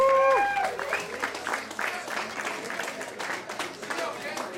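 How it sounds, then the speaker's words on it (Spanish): An audience at a jazz concert claps and cheers in a sustained burst of applause, starting just as a sung phrase ends and continuing as a moderate, steady patter. "Un aplauso, por favor."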